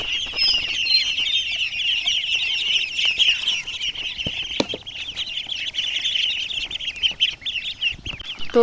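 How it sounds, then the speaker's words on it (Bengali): A crowd of ducklings peep continuously in a dense, high chorus while being given water and feeding, close and fairly loud, with occasional light knocks and taps of feeding mixed in. "হাঁসের বাচ্চাগুলো কিভাবে খাচ্ছে মাটি থেকে"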